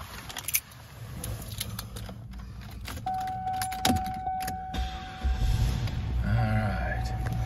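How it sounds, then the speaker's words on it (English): A 1999 Cadillac DeVille sedan is started, with keys jangling and a starter whine before the engine catches and settles into a low idle inside the car, under faint background noise. "So let's go ahead and jump in and fire this car up."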